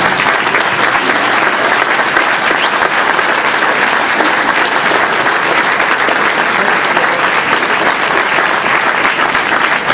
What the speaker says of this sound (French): Gilles Lassalle et Annick Bourgeault, on les applaudit.